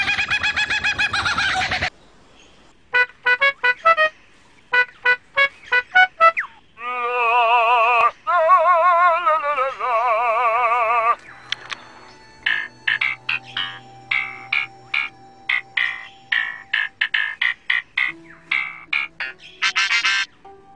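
A lyrebird at Adelaide Zoo in Australia runs through a string of mimicked sounds: a harsh buzz, rapid clicks, warbling whistles, a ringtone-like trill and clucking calls, loud and close, with short silent gaps between phrases.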